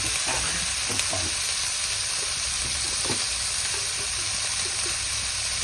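Bean sprouts stir-fry in a hot pan with oyster sauce, a steady loud sizzle that runs throughout, broken by faint scraping stirs.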